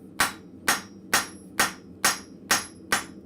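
A blacksmith's hammer flattening hot horseshoe nail heads on an anvil in a forge, seven crisp ringing blows at an even, unhurried pace, close and distinct.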